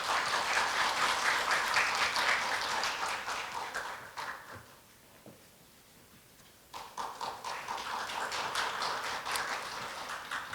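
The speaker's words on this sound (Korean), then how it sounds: "총장님을 큰 박수로 맞이해 주시기 바랍니다" An audience at a Korea University leader lecture applauds to welcome the university president. Sustained, even clapping fills the hall, dips to near quiet for a couple of seconds, then swells again and continues to the end.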